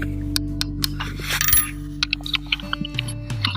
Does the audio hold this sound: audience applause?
no